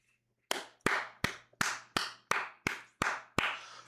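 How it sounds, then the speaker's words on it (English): Nine sharp hand claps ring out one after another at a steady, unhurried pace, close and alone against a quiet background. "I'm not clapping because I care."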